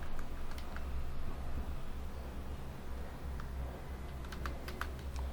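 Rapid, quiet clicking of keys on a computer keyboard while Java code is typed, irregular bursts of close taps over a low hum, with a few sharper strokes near the end.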